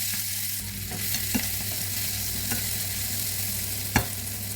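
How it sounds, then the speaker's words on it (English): Onion frying in a little oil, a steady low sizzle with a few soft stirring knocks and one sharper clatter near the end, close and without talk. "go in with your onion. Fry it a little bit."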